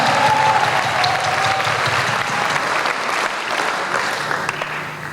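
A youth jamboree crowd at a church gathering breaks into sustained, even applause, a broad wash of many hands clapping steadily for about five seconds before easing slightly.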